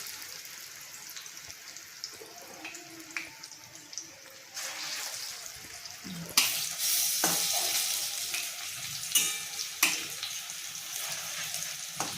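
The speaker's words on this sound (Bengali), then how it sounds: "এইরকম করে সব বড়াগুলো আমি ভেজে নেব।" Bottle gourd fritters (lau bora) fry in a pan with a steady crackling sizzle, joined by clinks of stirring and a louder burst of spattering partway through, no voices present.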